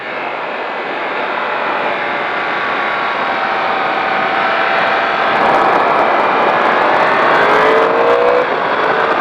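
A race car accelerates hard out of a chicane at the Magny-Cours circuit, its engine a loud, sustained roar that climbs steadily in pitch with no break over nine seconds.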